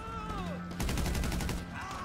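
Gunfire in Grand Theft Auto Online sounds as a quick burst of rapid shots, about a dozen evenly spaced cracks over under a second, moderately distant, with game sound and faint tones around it.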